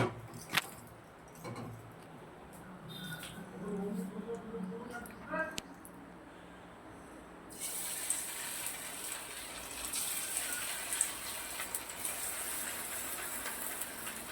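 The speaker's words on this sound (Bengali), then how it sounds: "আমি পকোড়াগুলো ভেজে নেব। হ্যাঁ, সাদা তেলে ভাজবো।" Chicken pakoras going into hot white oil: after a stretch of voice and quiet kitchen handling, a bright, steady frying hiss starts partway through and carries on to the end.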